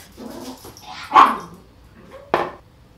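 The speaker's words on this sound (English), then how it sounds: "These dogs." Dogs let out two sharp, loud barks about a second apart, with softer whimpering and yipping in the quieter stretches between them.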